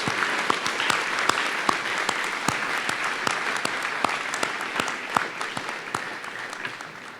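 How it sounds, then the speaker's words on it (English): Audience applause for the choir and concert bands at a Memorial Day ceremony, a crowd clapping steadily with some louder individual claps standing out, no voices. "I'd ask for one more round of applause for our choir, concert bands, and our dragon singers"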